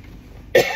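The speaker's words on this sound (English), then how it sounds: "I have to cough" A single sharp cough bursts out after a stretch of quiet background rumble, close and loud.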